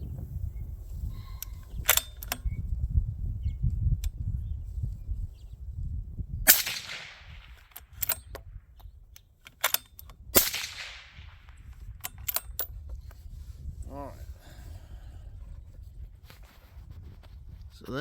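Sharp, loud rifle shots from a .223 Ackley firing 77gr TMK loads ring out at an outdoor range, with two big reports and a scatter of smaller cracks and clicks between quieter handling sounds.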